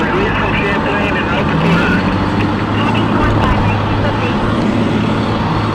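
Two fire trucks pulling away from a brush fire scene on Castine Road, a loud steady engine rumble that carries throughout while people talk nearby.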